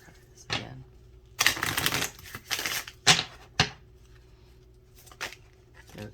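Shuffling a deck of playing cards, with several bursts of riffling and bridging separated by brief pauses, close and fairly quiet with a few sharp snaps and no talking.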